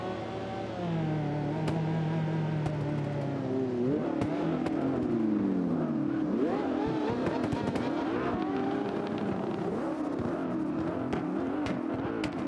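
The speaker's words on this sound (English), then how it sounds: "it is a high-speed car on a high-speed track" Racing car engine in the CarX drift video game, a high-speed car on a high-speed track, droning steadily with rising and falling revs and sliding pitch sweeps, punctuated by sharp cracks, running continuously throughout.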